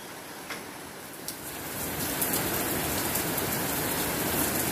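Heavy rain pours down steadily in a dense, continuous hiss, growing louder after the first couple of seconds, with a few sharper drop impacts ticking through early on.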